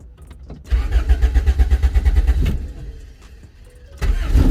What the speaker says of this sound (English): I'll turn the car on